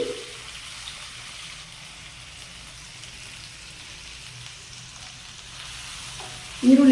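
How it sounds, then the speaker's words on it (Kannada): Onion frying in oil with cumin for a bitter gourd curry, a steady soft sizzle running throughout at moderate level, with a louder clatter or stir right at the end. "ನೋಡಿ, ಈರುಳ್ಳಿ ಇವಾಗ ಫ್ರೈ ಆಗಿದೆ."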